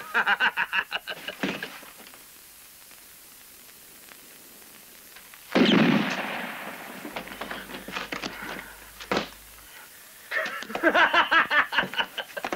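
Revolver gunshots in a spaghetti western: one loud, sharp blast with a lingering tail midway, then a shorter crack a few seconds later, between stretches of voices and film sound.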